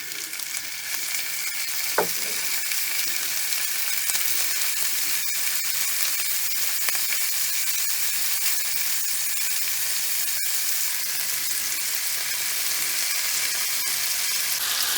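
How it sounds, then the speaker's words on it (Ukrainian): A steady, loud sizzle of shrimp frying with garlic in a hot pan, with an occasional clink of a utensil. "Буду смажити 3-4 хвилини."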